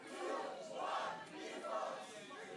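A live crowd at a beatbox battle shouts and cheers together, casting its vote for BlackRoll against JMBeats in a top-16 group-stage final, with loud sustained roaring that swells and ebbs in waves.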